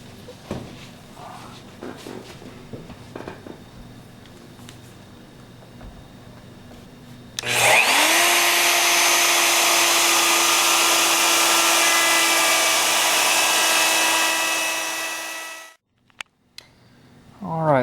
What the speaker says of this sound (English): that's what I'm fixing to do, is just route these insides and route the bottom a little bit